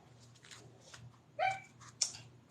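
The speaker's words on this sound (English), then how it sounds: "That's my dog." A dog gives two or three sharp, close barks with a faint whimpery yip, short bursts over a quiet room with a low hum.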